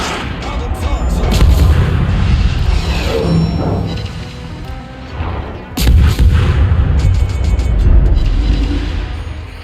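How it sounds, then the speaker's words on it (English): Heavy, continuous naval gunfire and booming shell impacts from a Tier 2 German destroyer, the V-25, in a naval battle video game, loud and dense throughout with a burst of sharper blasts partway through. "So now you can see the amount of shells that I'm putting into the enemy destroyer"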